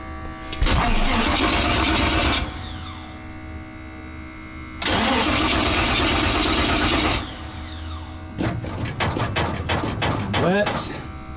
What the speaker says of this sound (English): starting port engine.